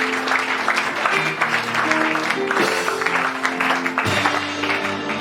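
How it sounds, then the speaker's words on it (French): Church congregation clapping for the Lord during a prophetic service, steady dense applause throughout with sustained music-like tones underneath. "Let's clap for the Lord."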